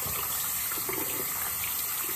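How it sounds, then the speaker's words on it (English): Warm water runs steadily from a household tap as someone washes their face, a continuous close splashing rush with no talk. "Warm water."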